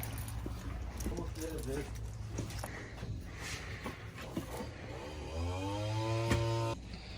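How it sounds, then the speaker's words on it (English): Wet tile saw on a tile cutting table during a bathroom remodel: a steady low motor drone whose whine rises in pitch near the end as the blade spins up, loud and close under continuous background noise. "This is the tile cutting table."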